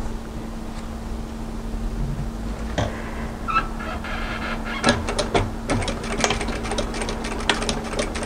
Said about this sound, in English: it's really just a small back tacking stitch